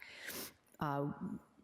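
A short sharp sneeze-like burst of breath during a planning board meeting, immediately followed by a person speaking, heard nearby.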